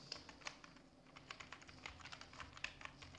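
Typing on a computer keyboard while entering text in Microsoft Word: a steady run of light, crisp key clicks with uneven rhythm, close and fairly quiet, with no voices.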